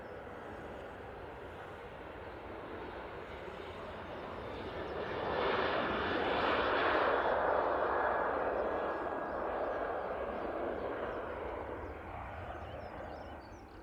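A Jet2 passenger jet, operated by ET Fairways, departs Manchester Airport, its broad engine roar swelling steadily from a distant rumble to a loud peak at mid-pass, then slowly fading while still present throughout.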